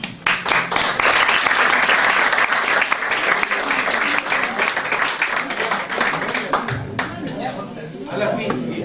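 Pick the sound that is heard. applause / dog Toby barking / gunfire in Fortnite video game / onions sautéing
applause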